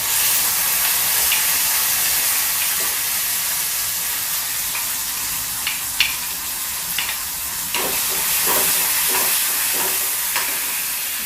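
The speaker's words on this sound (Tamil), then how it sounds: "குடமிளகா, பச்சை மிளகா, கொஞ்சமாக வதக்கினா போதும்." Tomato, capsicum and green chili sauté in a pan, a close steady sizzling hiss with occasional stirring clicks and scrapes over about eleven seconds, with no talking.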